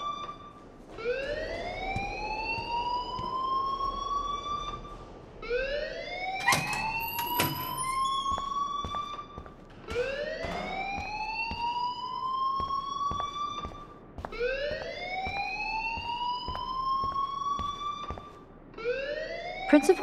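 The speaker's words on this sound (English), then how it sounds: "please turn off that alarm since that's your job." School alarm in the Life Is Strange video game, a loud electronic siren that rises in pitch and then holds, sounding in four repeated cycles each lasting about five seconds, with faint background noise between cycles.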